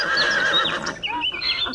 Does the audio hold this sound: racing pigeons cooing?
no